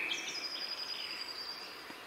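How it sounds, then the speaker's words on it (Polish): A European robin sings from a high tree branch, its thin, high, wavering phrases carrying clearly over faint background hiss, with one sustained high whistle running through the short passage. "Podczas śpiewu rudzik usadawia się na wyższej gałęzi drzewa, by dźwięki roznosiły się jak najdalej."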